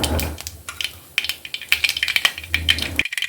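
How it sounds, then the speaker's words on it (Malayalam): Mustard seeds hit about two teaspoons of hot oil and pop in rapid, irregular bursts of sharp crackles, close and fairly loud, cutting off abruptly at the end. "എണ്ണ നല്ലതുപോലെ ചൂടായാൽ ഇതിലേക്ക് കുറച്ച് കടുകിട്ട് പൊട്ടിക്കാം"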